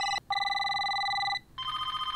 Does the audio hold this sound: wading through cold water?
no